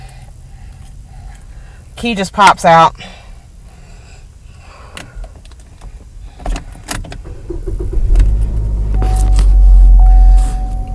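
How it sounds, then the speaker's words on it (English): A 2017 Chevrolet Equinox engine cranks briefly and catches, settling into a low steady idle rumble, with a voice speaking before and some jangling of keys. "Let me start the car here."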